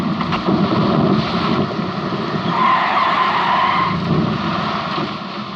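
A car in an action movie skids to a stop with a loud drawn-out tire squeal over a rumbling engine, lasting several seconds before fading.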